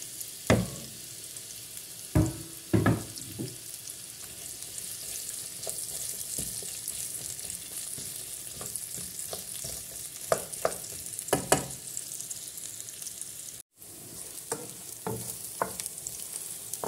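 Onion fries in oil in a pan to caramelize, giving a continuous bright sizzle with occasional knocks and scrapes of stirring and one brief dropout; close and steady, without any voices.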